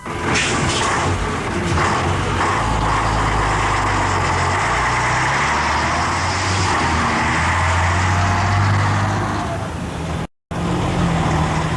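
A loud, steady engine roar from a band's modern concert tour trucks driving in 1978, rumbling continuously, with a brief dropout near the end before the noise resumes.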